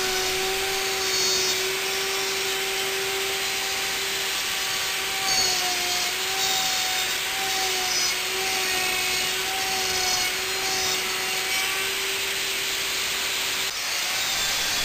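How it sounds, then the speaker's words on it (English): A slot mortising machine cuts a straight slot in wood between two round holes, a steady, loud motor whine with a constant pitched hum that runs unbroken for the whole stretch, with no voices. "I use once again my slot mortising machine to make a straight cut between the 2 round holes"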